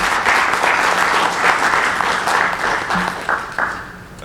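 Sustained audience applause for the final presenters at a regional conference of anti-corruption agency heads, dense, even clapping from a large hall crowd that thins slightly toward the end.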